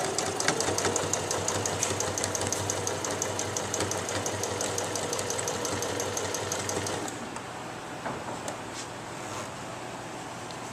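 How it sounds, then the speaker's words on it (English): A Brother sewing machine stitches fabric in a steady, fast mechanical whir with rapid needle ticks, running loud and alone for about seven seconds before stopping, leaving faint clicks and handling noise. "Put your foot on the paddle and you can start to sew."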